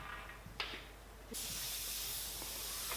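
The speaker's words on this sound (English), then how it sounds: "And here I am spraying the base of the screw." Spray paint hissing from a can onto the base of an Archimedes screw, a short spray burst and then a sustained, steady loud hiss at close range, with small clicks from the nozzle.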